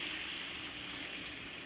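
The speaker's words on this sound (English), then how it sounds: "we're at the point of adding our beef broth right now" Beef broth pours from a whole can into a cooking pan, a faint, steady liquid hiss and trickle lasting under two seconds, close but quiet and without talk.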